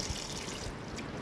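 Water trickles and gushes continuously as the fresh water tank of an Auto Sleeper Symbol motorhome drains down, a steady close splashing hiss with no break.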